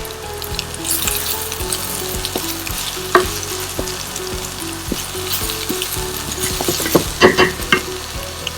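Spinach sautéing in a pan for an egg dish with mushrooms, a steady close sizzle with scattered scrapes and stirring clatter, growing busier toward the end, no talking.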